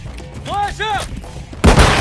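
A flashbang grenade bursts in Call of Duty Warzone as a sudden loud, harsh blast that cuts in after a short spoken callout over faint game background.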